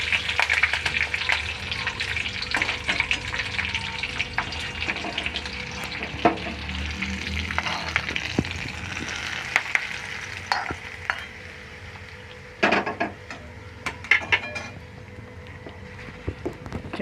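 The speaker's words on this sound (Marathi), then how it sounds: "फोडणी छान बसली। आता आपण त्याच्यात टाकून घेऊ चटणीमध्ये।" Hot tempering added to a chutney crackles and sizzles close by, with stirring scrapes and scattered sharp pops over a continuous frying hiss.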